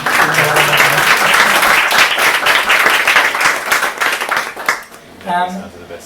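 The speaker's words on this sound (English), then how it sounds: "I think that deserves a round of applause on its own." An open-mic poetry night audience breaks into loud, sustained applause that fills about five seconds, then fades as a voice begins speaking near the end.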